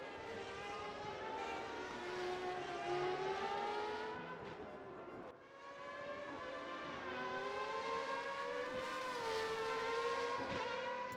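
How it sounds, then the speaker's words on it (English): Formula race cars in the RaceRoom racing game lapping the Nordschleife, engines wailing loud and close in rising and falling pitch sweeps as they shift through gears, a brief dip midway before the roar builds again. "This is the last time these cars will be going through this section of the track."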